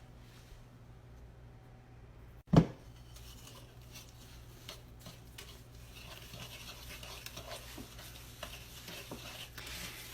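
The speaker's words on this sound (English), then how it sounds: "And we're going to go ahead and stir that together." A spoon stirs half a cup of oil into apple cake batter in a mixing bowl, giving soft, faint wet swishing and scraping after one sharp knock against the bowl.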